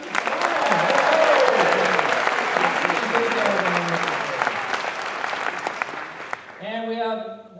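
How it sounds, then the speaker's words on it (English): Sustained applause from a college convocation crowd greeting new classified professionals, full and even for several seconds before tapering off as a speaker's voice takes over at the end. "I want to make a round of applause for all of our new classified professionals."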